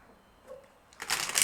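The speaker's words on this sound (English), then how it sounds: "I will shuffle again." Tarot cards shuffled by hand in a short burst of crisp riffling that starts after a brief quiet and gets louder toward the end, with no talk.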